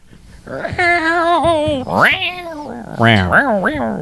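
A human voice imitates a cat, drawing out several exaggerated meows in quick succession, loud and close.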